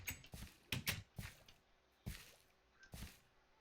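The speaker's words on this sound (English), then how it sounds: "I hate dripping water." Water drips in Minecraft, a sequence of soft, close, wet plops spaced irregularly against near silence, some landing in quick pairs.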